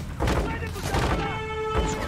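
Gunfire in Call of Duty Modern Warfare II gameplay: a burst of rapid shots and thuds fills the mix, loud and dense, with talk over the top.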